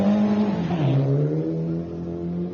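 A rally car on a Queensland gravel rally stage dropping into a slight dip, its engine note falling as revs drop and then holding steady, loud and close.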